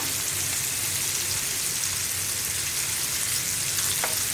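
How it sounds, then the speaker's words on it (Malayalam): Prawns shallow frying in a pan with chilli and turmeric powder make a loud, even, continuous sizzle, heard close and alone with no talk. "ഷാലോ ഫ്രൈ എന്ന് പറഞ്ഞിട്ടുണ്ടെങ്കിൽ ഒരുപാട് സമയം ഫ്രൈ ചെയ്യേണ്ട ആവശ്യമില്ല."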